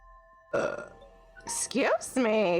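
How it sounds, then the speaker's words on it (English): A young boy burps loudly at close range, a short harsh belch followed by a second drawn-out burp, with adult speech around it in a home setting. "I wasn't sure if you heard his burp or not."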